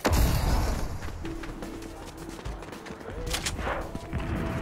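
Fortnite gunfire sounds in the distance as scattered muffled shots and thuds over a steady rumbling game background, with a few sharper pops late on and no clear talk.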